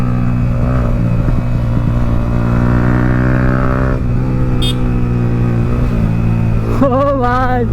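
A Yamaha MT-15 motorcycle with a loud aftermarket exhaust drones and revs hard through a downshift, the engine note holding steady then dropping and climbing sharply near the end, very close and loud.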